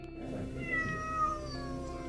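A house cat kept in a back room meows a few times, clear and close over a steady low indoor hum, with no talk.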